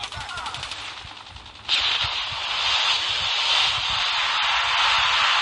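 Sustained automatic fire from an AK-107 rifle in a shooter video game, a long loud rattling burst that cuts in sharply after a quieter stretch and keeps going without pause to the end.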